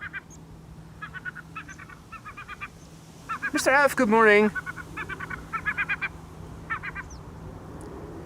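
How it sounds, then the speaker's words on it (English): Loud honking bird-scaring calls from airport bird control at Schiphol blare in a burst through the middle, amid repeated rhythmic chirping calls and a brief spoken greeting. "now we can hear the sounds of bird control"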